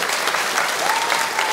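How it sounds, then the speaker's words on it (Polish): Theatre audience applauding after a Polish comedy monologue, a dense continuous burst of clapping filling the short clip at steady loudness with a faint voice line threading through. "Wielkie brawa oczywiście"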